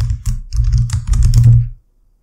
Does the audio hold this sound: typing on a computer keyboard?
yes